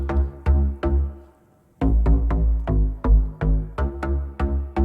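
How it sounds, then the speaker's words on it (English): Synth bass from a Native Instruments Massive recreation of the classic DX7, playing a woody, plucky riff of repeated short notes with a brief gap near the start, loud and alone with no talk. "This first one is from a classic analog synth, the DX7. It's a massive, Native Instruments massive recreation"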